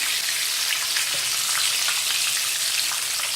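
Fish frying in hot oil for fish and chips gives a steady, even crackle and hiss that runs without a break, close and moderately loud, with no voices.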